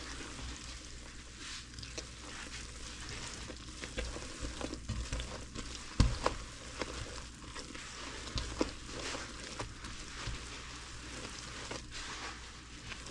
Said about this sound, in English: So you want to melt your marshmallow, stir it constantly so that way it doesn't burn